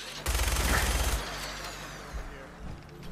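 A dense burst of automatic gunfire rattles for about a second in modded Skyrim, then trails off into a low rumbling tail with a few fainter shots, all without talk.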